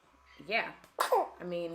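A baby girl gives a couple of short, sharp sneezes close by, one after the other, with a voice talking briefly around them.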